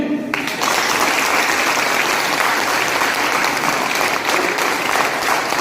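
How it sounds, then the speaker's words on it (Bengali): Audience applause in a motivational gathering, dense and sustained clapping from a crowd that swells after a brief quiet start and continues steadily throughout. "সৈনিক তো একদম সৈনিকের মতো হাততালি দিন"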